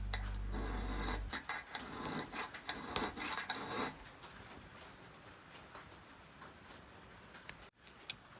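Metal file rasping rhythmically across an adjustable wood drill bit to sharpen it, a run of close, scraping strokes that stops partway, leaving a quiet background with a faint click.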